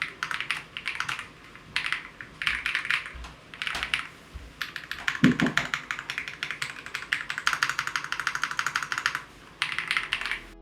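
Rapid clicky typing on a Royal Kludge R65 mechanical keyboard comes in bursts separated by short pauses, close and crisp, with an occasional heavier thunk.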